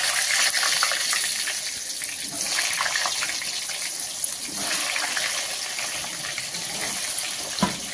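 Potato pieces going into hot salted oil for a spicy mutton curry, giving a steady, loud hiss and sizzle that stays close and constant throughout with scattered small crackles and no talk.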